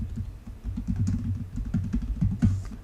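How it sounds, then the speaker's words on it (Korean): Rapid typing on a computer keyboard, close by, a busy irregular patter of key clicks with no voices. "저는 타이핑을 하겠습니다."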